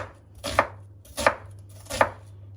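Three evenly spaced knife chops through an onion on a cutting board, close and distinct, each a sharp thud with a faint crunch.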